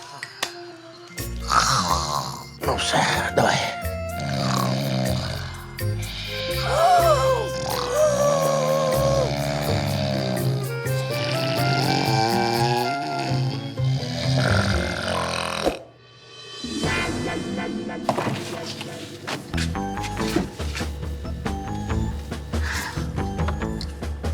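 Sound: loud snoring

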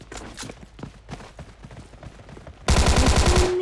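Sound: gunfire in video game PUBG Mobile Lite

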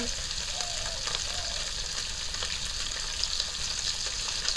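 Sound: fish frying and onions sautéing in oil

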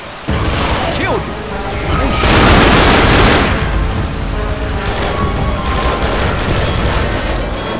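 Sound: gunfire shooting at the tank in video game Left 4 Dead 2

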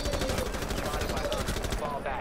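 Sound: gunfire in a shooter video game

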